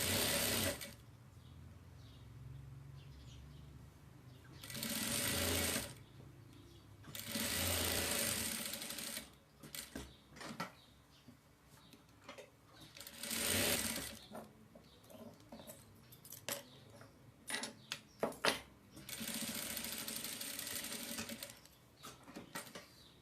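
A sewing machine stitches a seam on a baby boy's overalls in several separate bursts of rapid whirring, with fabric handling and light clicks between runs, close and steady.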